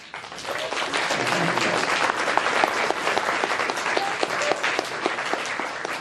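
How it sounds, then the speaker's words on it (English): Audience members at a Kotoricon 2012 convention panel break into steady, full-room applause, a dense wash of many hands clapping that swells quickly and carries on evenly with scattered sharper claps and faint voices. "I think you deserve a round of applause on that."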